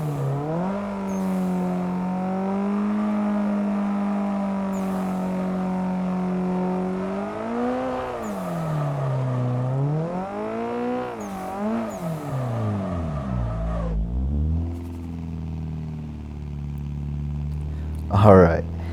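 A car engine in Assetto Corsa revs hard while drifting donuts. The pitch swells and sags in repeated loud surges, cuts off sharply near the end, then returns briefly.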